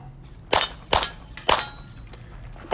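Pistol shots ring out at a shooting match and strike steel targets, four sharp cracks with metallic clangs at an uneven slow pace followed by a fifth, close and loud.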